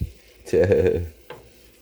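A short burst of sizzling and stirring in a pan while chicken biryani ingredients sauté, with a spoon scraping once, then a brief second clatter, close and fairly loud.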